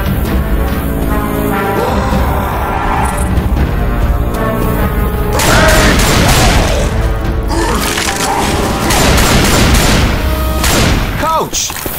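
Rapid bursts of gunfire aimed at the Tank in Left 4 Dead 2 crack and boom continuously over dense game noise, with character voices shouting throughout.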